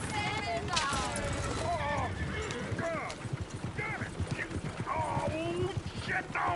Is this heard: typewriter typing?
no